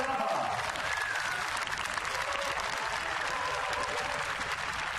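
A crowd applauds steadily at an inline speed skating women's 15,000 m elimination final at the 2017 World Games, a dense, constant wash of clapping with a commentator talking over it.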